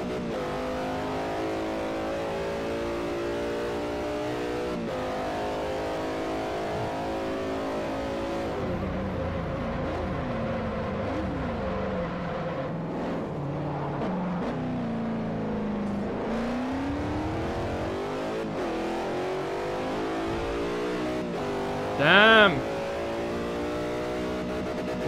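Mercedes S-Class race car in Forza Motorsport 4, its engine revving hard and steady through gear changes with rising and falling pitch sweeps, loud and continuous with no talking.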